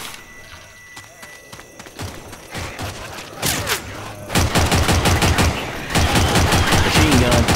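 Rapid machine gun bursts in the Ravenholm level of a shooter game. The shots start sparse and mechanical, then become loud, sustained rattling volleys that grow denser toward the end.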